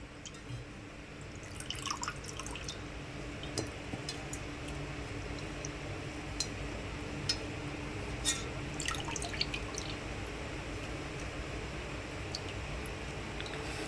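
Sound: water dripping from blanched spinach being drained

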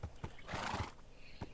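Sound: horse neighing in the video game Minecraft

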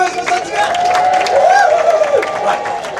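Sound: comedy audience applause and cheering

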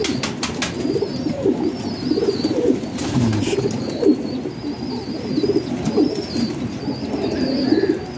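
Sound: pigeons cooing and shaking their feathers

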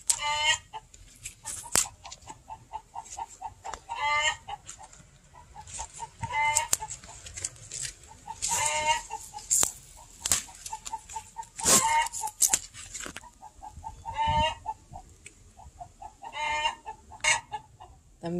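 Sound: hens clucking

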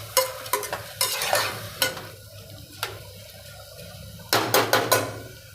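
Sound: mixing ingredients for palak paneer rice

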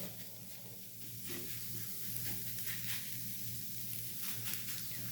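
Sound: bitter gourd shallow frying in oil

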